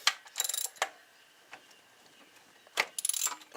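A ratchet with a half-inch socket clicks in short bursts while loosening intake manifold bolts on an 87 Chevy 2500 small-block V8 in the truck, quick close ratcheting with quiet pauses.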